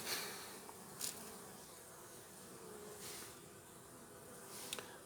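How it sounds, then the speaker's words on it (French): Bees buzzing around a beehive while an apiary weed is pulled, a soft continuous drone of many insects close by, with a few brief rustles and scrapes of handling breaking through the hum. "je suis entouré d'abeilles, je ne veux pas trop les perturber, les brusquer"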